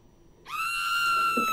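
A high, sustained scream bursts in suddenly after a short silence and holds loud and steady to the end, used as a sound effect in a dark comic audio story.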